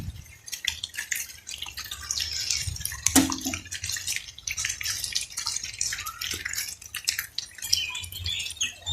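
Rainwater trickles and drips irregularly close by in a village on a rainy winter day, a busy splashing patter with a steady flowing hiss underneath and no voices.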